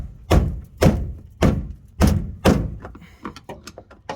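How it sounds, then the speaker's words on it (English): Five sharp metallic thunks, spaced about half a second apart, from a screwdriver butt being struck to turn the fuel tank lock ring on a 2009 Ford F-150, followed by lighter, quicker taps. "I'm hitting the back of my screwdriver"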